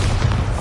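A Bombarda spell explosion from the Hogwarts Legacy video game, a continuous deep booming blast with low rumble filling the short moment, loud and close.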